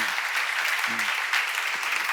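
An audience at a church seminar claps in steady, dense applause for a couple of seconds, with a brief voice underneath.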